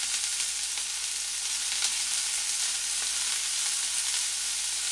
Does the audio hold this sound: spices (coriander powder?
yes